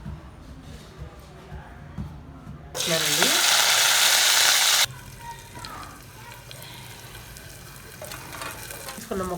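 Cluster bean pieces frying in oil, with a loud burst of crackling sizzle for about two seconds amid quieter kitchen sounds and a voice talking before and after.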